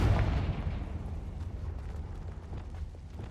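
Confringo fire spell blast in Hogwarts Legacy, a loud booming explosion at the start with a deep rumbling crackle that slowly decays and keeps rolling throughout.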